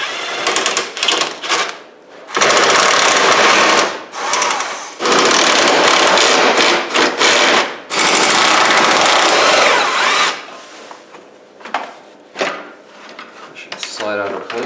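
Bolts are removed from the fan shroud of a Jeep Cherokee XJ, four 8mm bolts during an aluminum radiator install: loud bursts of power-tool whirring and ratcheting come in several long runs, broken by short pauses and clanks, with no talk.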